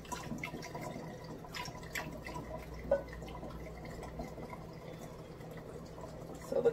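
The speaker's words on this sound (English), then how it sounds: "Then I'm going to go ahead and add my cooled down hibiscus tea." Cooled hibiscus tea poured into a glass of hibiscus dragon fruit lemonade, a soft steady trickle and drip of liquid, close and quiet, with small splashes and no talk.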